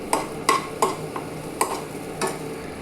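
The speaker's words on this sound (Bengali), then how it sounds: "এটাকে ভেজে যাচ্ছি।" A spoon scrapes and taps through semolina upma frying over low heat in a pan, a series of about six sharp, evenly spaced stirring knocks over a faint background.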